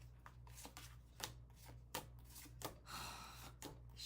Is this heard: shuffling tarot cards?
yes